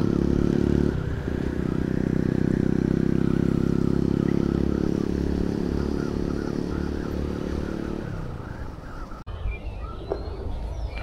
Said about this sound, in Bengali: এ হচ্ছে হলারওয়ালা বাইকটা